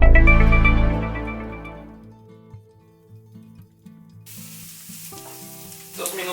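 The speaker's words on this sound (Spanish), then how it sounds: "Vamos a comenzar dándole una salteada a la cebolla." Onion sautéing in oil in a saucepan gives a loud, dense sizzle at first that fades over the first couple of seconds into quieter crackle, with music playing underneath.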